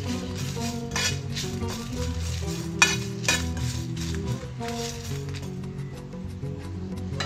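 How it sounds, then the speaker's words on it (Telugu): Dried red chillies and cumin seeds frying in the same pan just used for peanuts, with repeated metal clinks and scrapes of a spoon against the pan over a low sizzle, no talk. "ఇదే పాన్ లో ఎండుమిరపకాయలు జీలకర్ర ఫ్రై చేసుకోవాలి।"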